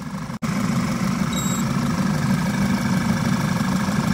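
A Ryobi heat gun runs steadily and loudly, with a continuous blowing rush over a low hum, broken once by a very brief dropout near the start.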